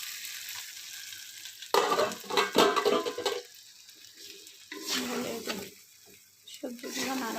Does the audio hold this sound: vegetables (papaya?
yes